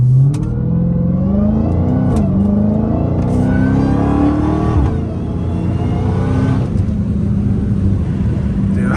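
A 797hp Dodge Hellcat Redeye accelerates hard through the low gears, its engine roaring loud and close with rising revs, brief gaps at each shift, and the note climbing again after each change.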